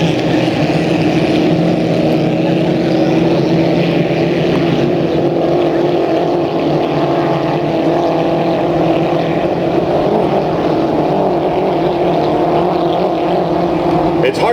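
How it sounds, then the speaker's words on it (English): Hydroplane racing boats in a 2.5 litre heat race roar steadily from a distance, a continuous droning engine noise that fills the whole stretch with no break. "I believe the lead boat is the number 9, the Rewinder, driven by Mark Johnson."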